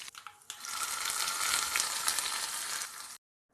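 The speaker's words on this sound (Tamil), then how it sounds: "கடுகு, காஞ்ச மிளகா, கருவேப்பிலை, இது எல்லாத்தையும் போட்டு தாளித்து சட்னியில் எடுத்து ஊற்றிடலாம்." Mustard seeds, dried red chillies and curry leaves crackle in hot oil for a chutney tempering, a loud, steady sizzle after a few brief clicks, cutting off abruptly at the end.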